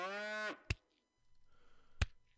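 A cow in the video game First Feudal lets out one drawn-out moo, followed by sharp game clicks and a low background hum, clear and fairly close, with no speech.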